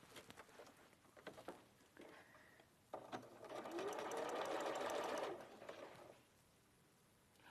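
A domestic sewing machine stitches around fabric pieces in a steady, fast whirring burst of about three seconds, with quieter intermittent mechanical clicks and brief handling before and after, close and clear.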